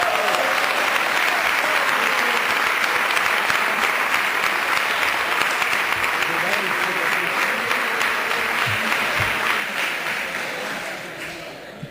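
Sustained, dense applause fills the Quebec National Assembly chamber, many members clapping steadily at full volume before the sound tapers off near the end.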